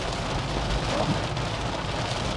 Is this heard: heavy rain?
yes